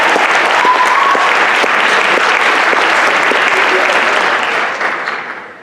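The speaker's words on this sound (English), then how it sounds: "we'd like to give a shout out and big round of applause to Bridger Brewing and Sweet Peaks Ice Cream" Loud, sustained applause from a theater audience at a monologue performance, a dense wash of clapping that holds steady before tapering off at the very end.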